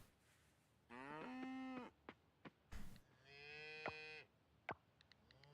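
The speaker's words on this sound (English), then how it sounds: "The cow is mooing at me" Cows mooing in the farming game Coral Island, several long, loud harmonic moos in succession with short calls and clicks in between, no talk over them.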